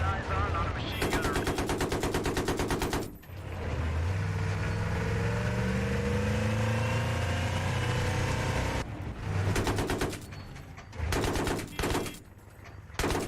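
Bursts of machine gun fire in the Battlefield 3 video game on Xbox 360, loud rapid strings of shots starting and stopping around a steady engine drone in the middle stretch.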